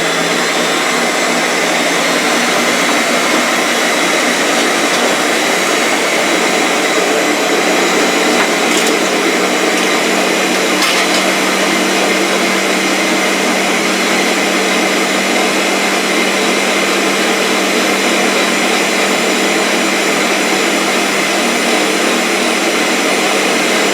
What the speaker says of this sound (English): The Ninja's loud again.